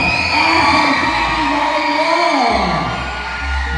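A large crowd at a live fan event cheers and shouts loudly and continuously, with high-pitched yells and whoops blending into one sustained roar.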